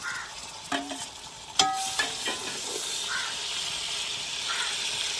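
Sliced onions sizzle steadily in a pan while a spoon stirs and scrapes, with a few clinks and louder hissing bursts as tomato and green chili are added for a chicken biryani.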